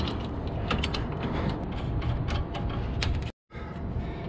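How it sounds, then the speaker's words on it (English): A 17 mm socket wrench loosens a bolt on a KW coilover suspension with loud, rapid clicking ratchet strokes and creaks. The strokes continue for about three seconds, stop abruptly, then resume briefly. "Go ahead and crack this loose with another 17 socket."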